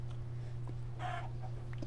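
A single short clucking burst from a chicken over a steady low electronic hum, with a few faint clicks around it.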